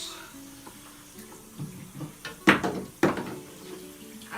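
Water running while a child's hair is washed, a steady splashy flow with a few louder sloshes and bursts near the middle.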